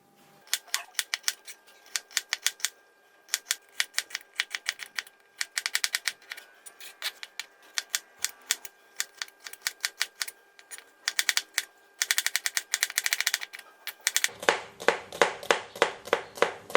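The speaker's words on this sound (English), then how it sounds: "We just need to cut the bitter gourd into half." A knife chops through bitter gourd on a cutting board in quick bursts of crisp, repeated taps, pausing between runs, close and clear, with a louder, fuller flurry of strokes near the end.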